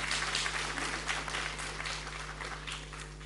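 Steady audience clapping fills a seminar hall on spirituality, dense and even throughout, with a constant low electrical hum beneath it and no speech.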